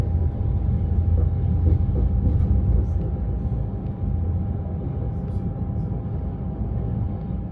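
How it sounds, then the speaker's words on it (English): A train on the Flam railway in winter rumbles steadily and heavily from inside the carriage, with a low continuous drone and faint clacks throughout. "I really enjoyed every second sitting in that train that takes 50 minutes to reach Flam."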